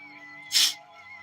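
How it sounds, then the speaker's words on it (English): A small dog gives a single short sneeze, a sharp burst over a faint steady background hum. "You sneezing at me?"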